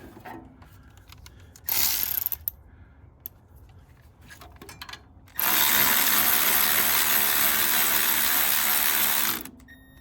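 Ratchet tightening the alternator mounting bolts on a Toyota Camry: a short burst of rapid clicking, then a longer steady run of fast ratcheting, close and fairly loud with no talk.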